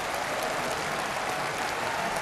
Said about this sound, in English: you could see in that clip there the applause in the hall